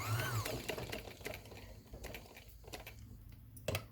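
A sewing machine runs quietly while stitching back fitting loops, giving a soft patter of needle strokes with small clicks and a faint mechanical hum.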